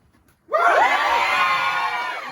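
A large indoor crowd suddenly bursts into loud, sustained screaming and cheering after a quiet moment, with high, shrill voices holding the roar steady before it slowly eases.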